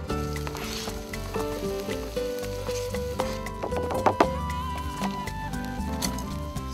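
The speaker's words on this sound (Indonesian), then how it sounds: "Dan ini kita tumis." Ginger and spices sizzle steadily in a hot pan for an Indian samosa filling, with a few stirring clatters, all under prominent background music.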